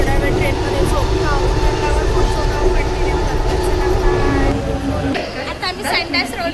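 A passenger train travels with a continuous rumble and rattling from the carriage while voices chatter around it, and the noise eases near the end.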